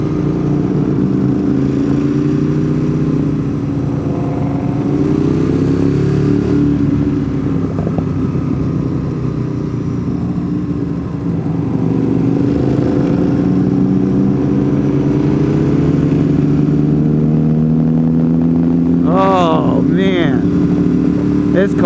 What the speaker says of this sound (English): This car sounds annoying.